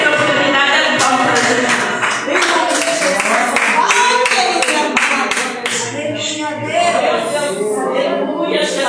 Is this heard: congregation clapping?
yes